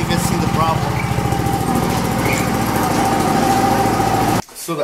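A Bluebird lawn aerator's small engine runs in drive with the chain pulling, a loud, close, steady throbbing putter that cuts out abruptly near the end, with someone talking over it.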